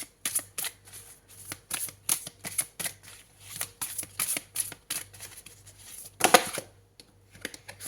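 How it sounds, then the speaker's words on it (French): Tarot cards being shuffled by hand, heard as a close, quiet run of crisp riffling flicks in a steady rhythm, with a brief denser flurry near the end and no talking. "Allez, on va prendre une carte du tarot."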